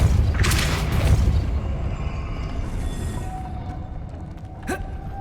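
A Depulso spell cast in the video game Hogwarts Legacy, heard as a loud, close booming whoosh with a deep rumble that fades into a low hum, followed by a brief rising magical tone.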